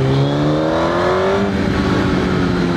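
A Suzuki GSX-R 1000 sport motorcycle engine revs high and then drops off, its exhaust roaring loudly and steadily up close, with the pitch sliding downward across a short stretch and no talking.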